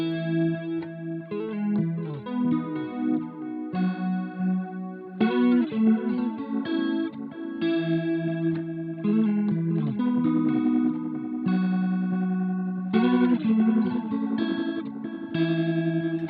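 Electric guitar played through a Strymon Brig analog delay pedal in stereo, with no modulation: chords and picked notes ring continuously, repeats smearing into a wide, thick, almost organ-like wash over a sustained low bed.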